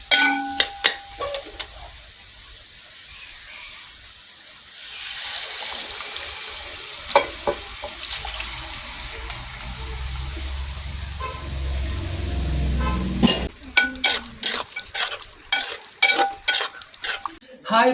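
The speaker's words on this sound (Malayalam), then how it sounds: "ഇനി നമുക്കിതിലേക്ക് ബീഫ് ഇടാം." Beef stirred into a pan of mashed tomato mixture for a beef roast, with a steady sizzle and scraping stir strokes, sharp clinks of a utensil against the pan toward the end.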